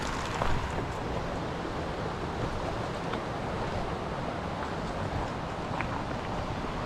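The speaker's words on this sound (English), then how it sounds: "we listen to the rushing water here" Rushing water along Ishkabibble Beach Road, a steady broadband roar of flowing water with wind mixed in, constant and fairly close throughout without any talk.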